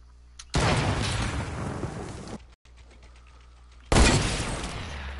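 Video game gunfire comes in two loud bursts, a long rattling volley, then a brief quiet gap, then another sudden heavy blast, with no voices.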